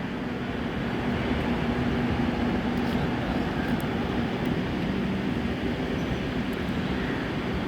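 The Howrah Mail passenger train rolls past at morning near Baiyappanahalli, giving a steady, moderately distant rumble of wheels and carriages that holds evenly throughout without any speech.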